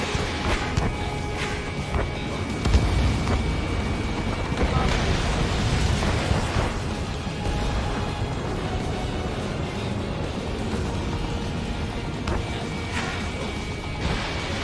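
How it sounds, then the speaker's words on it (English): Missile explosions in a combat flight game, heard as loud rumbling blasts and crashes over a constant roaring jet drone, with radio-style voices talking throughout. "Missile launched. Trigger's taking out one of the AA guns"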